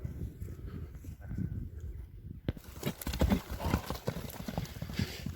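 A champion kok-boru horse in Osh walks on hard ground, its hooves clip-clopping steadily and close by against a busy background.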